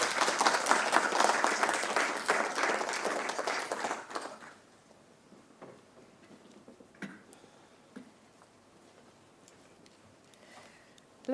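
Applause from the audience at a professorial inauguration lecture, loud and dense for about four seconds, then dying away into a few scattered claps and quiet room noise.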